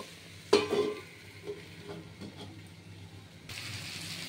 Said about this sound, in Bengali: এরকম ভাজা ভাজা হচ্ছে